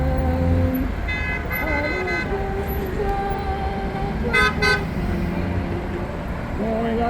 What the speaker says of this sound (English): All they do is stand on here and hold signs to get people to honk